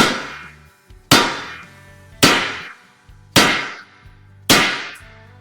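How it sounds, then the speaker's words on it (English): Hammer blows striking a Honda Pilot steering knuckle during suspension repair, five loud sharp metallic impacts spaced about a second apart, each ringing briefly before fading, with no talk. "Now we're going to beat on this side of the knuckle and see if it does any better."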